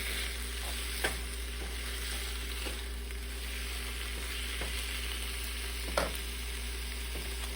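Jackfruit taco filling is stirred in a hot pan under a steady sizzle, with a couple of sharper spoon scrapes standing out near the start and again later.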